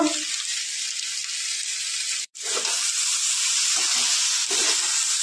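Ground coriander and cumin with a spice paste sizzle steadily in a hot pan for a Bengali cholar shak ghonto, a broad close hiss broken once by a brief pause, with soft stirring scrapes underneath.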